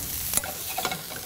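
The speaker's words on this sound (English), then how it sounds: "If it's just at the right temperature, I get that lovely little sizzle." Mushrooms sizzling as they go into a hot frying pan while cooking beef collops, a close, soft frying hiss with brief stirring and clattering bursts, heard without voices.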